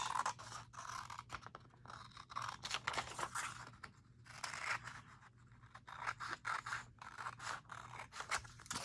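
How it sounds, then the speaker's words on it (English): Scissors snip through paper in a quick, uneven series of close cuts, with short pauses between bursts. "I could use the guillotine, but let me just try it with scissors."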